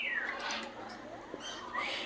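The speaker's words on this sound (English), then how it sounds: "this is a hyacinth macaw." Hyacinth macaw, the largest parrot, native to Brazil, kept at a parrot attraction in Pigeon Forge, Tennessee; a few harsh squawking calls at close range, rising and falling, with quiet background between them.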